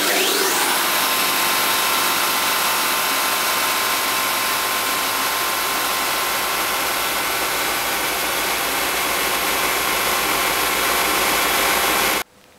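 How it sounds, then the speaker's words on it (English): A large stationary sander in a home workshop runs with a loud, steady motor whine and broadband rush that spins up at the start and cuts off abruptly near the end. "So this is a little bit my large stationary sander."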